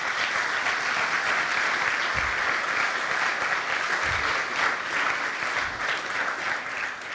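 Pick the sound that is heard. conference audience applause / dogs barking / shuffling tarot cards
conference audience applause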